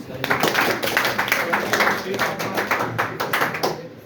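A classroom audience claps for a student, a brisk run of scattered hand claps close by that builds and then tapers off.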